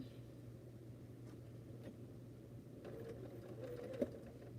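A new sewing machine runs with a steady low mechanical hum, sewing continuously and alone, with a brief sharp click near the end.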